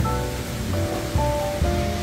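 A rain-swollen stream in Guman Valley, Miryang, overflows onto the trail, making a continuous, even rushing roar of water close by with no talking.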